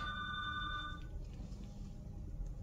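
A telephone rings with a bright electronic trill for about a second, fairly faint, then stops and leaves a low room hum.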